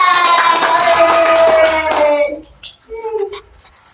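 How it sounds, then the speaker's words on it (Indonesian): Classroom applause with hands clapping loudly for about two seconds over a sustained tone, then dropping away as a voice speaks. "tepuk tangan buat Mas Rasa"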